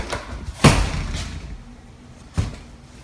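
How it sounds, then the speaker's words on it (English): A basement door that hung ajar slams shut with great force, one sharp heavy bang followed by a softer thud in a quiet room. "the door to the basement, which hangs ajar, it slams shut with great force"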